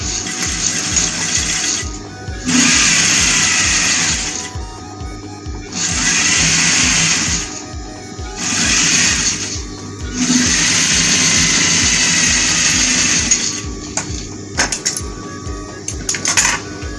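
A sewing machine stitches the front of a boys' African-style top in several bursts of rapid, whirring mechanical chatter, separated by short pauses, close and fairly loud, with light handling clicks toward the end.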